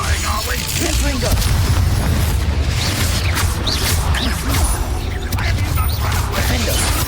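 Confringo fire spell blasts during combat in Hogwarts Legacy, a dense loud stretch of crackling bursts and mechanical clatter that runs continuously under battle noise.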